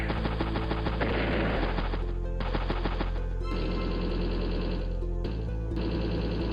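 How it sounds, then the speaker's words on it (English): A battlecopter attacking a command tank in the strategy video game Advance Wars: Days of Ruin, a steady stretch of loud rattling machine-gun fire over looping game music and effects, with no talk. "Battlecopter strikes command tank."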